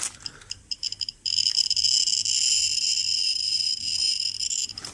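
Geiger counter dosimeter with a speaker clicking as it registers radiation, a handful of sparse clicks and then a dense, continuous crackle of rapid clicks.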